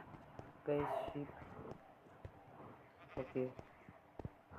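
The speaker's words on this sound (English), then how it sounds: "sheep." Two short sheep bleats in the Minecraft video game come through under a voice talking in the foreground.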